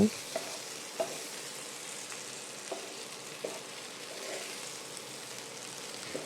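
Pre-fried potatoes stirred together with fish head and rice in a pan over a medium flame for muri ghonto, a steady close sizzle with occasional soft scraping knocks of the spatula.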